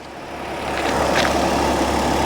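A 2023 Chevy Silverado 1500 pickup's 3.0L Duramax diesel engine idles with a steady low rumble and even mechanical clatter, close and fairly loud, no voices.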